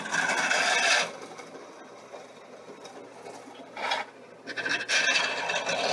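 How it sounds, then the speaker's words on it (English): A drill press bores into wood for railroad benchwork in bursts, a harsh rasping grind that starts, stops and starts again, with a quieter motor hum between. "we made the decision to use a drill press"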